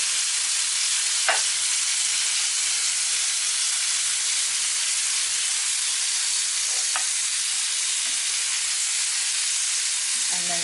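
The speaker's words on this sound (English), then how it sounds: "You want that lamb fat to render down so that you can then give it a flip onto the other side." Lamb chops fry in a hot pan as their fat renders, giving a steady, even sizzle and hiss throughout, with a couple of faint clicks and no talking.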